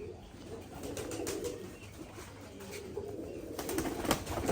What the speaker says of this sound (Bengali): এটা উড়ার কবুতর আছে